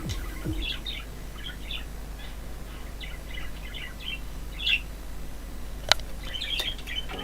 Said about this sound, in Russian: слышно ли попугай или нет, но мне кажется, очень отчетливо его слышать, потому что кричит он неимоверно громко